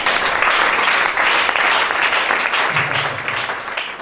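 A congregation applauds loudly and steadily at a church service, a dense wash of many hands clapping throughout, thinning slightly toward the end.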